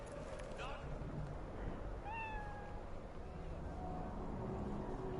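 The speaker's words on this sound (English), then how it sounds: "One of those little hairless cats." A hairless cat in the video game Cyberpunk 2077 gives a single rising meow partway through, heard over a steady bed of game ambience and background noise.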